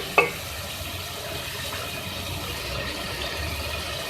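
Yogurt being mixed into tender cooking mutton makes a soft continuous sizzle and stirring scrape in the pot, opening with one brief knock of the utensil, with no talking.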